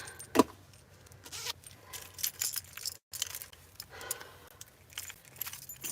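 Car keys jangle and clink in several irregular bursts near the microphone, with a brief silent gap midway and soft handling noise between the metallic rattles.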